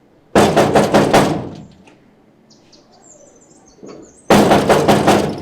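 Two bursts of loud, rapid knocking on a door, each a flurry of hard raps lasting about a second, separated by a quiet pause with faint background sounds.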